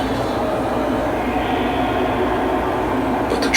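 A train rolls steadily along its tracks, a constant dense rumble and hiss at moderate level with no breaks, heard alone as a railroad sound effect.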